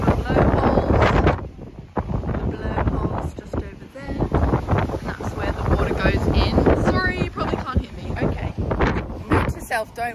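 Strong wind buffets the microphone at a small beach town, a continuous loud rumbling roar with gusts, while people talk over it throughout.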